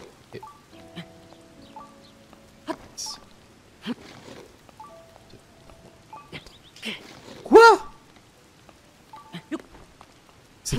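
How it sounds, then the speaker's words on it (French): Rain falling in the video game The Legend of Zelda: Tears of the Kingdom, with sparse raindrop patters and splashes mixed with short game sound effects and tones, quiet and intermittent, with occasional louder chimes. "si ça continue de pleuvoir ça va m'énerver"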